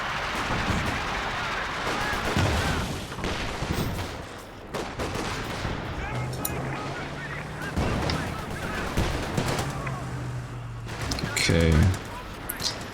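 Mortar fire in a competitive real-time strategy match, with several dull booming thumps and crackling battle noise spread through the scene and a louder burst near the end, over continuous dense game audio.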